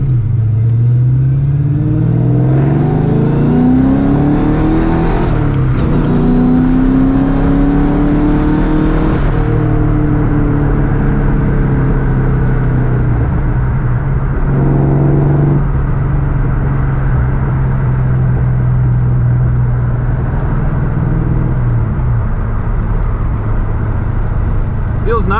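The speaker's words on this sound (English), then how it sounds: "We're going to do a little second gear pull." A Ford Foxbody Mustang fitted with a Steeda Tri-Ax shifter revs hard through a second-gear pull, the engine climbing loudly in pitch, easing, then rising again, heard up close from inside the car.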